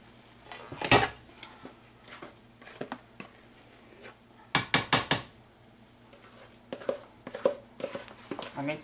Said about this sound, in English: we're putting it in the pan,